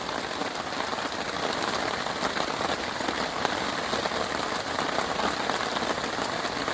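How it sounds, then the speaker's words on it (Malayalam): Heavy rain pours at a survival campsite at dusk, a dense, even hiss of drops pattering on surfaces and gear, steady and loud throughout with no voices. "മഴയായി, നല്ല മഴ."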